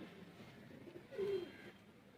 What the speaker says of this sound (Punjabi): ਸ਼ਾਮਾਂ ਤੱਕ ਉੱਡਣ ਵਾਲੇ ਕਬੂਤਰ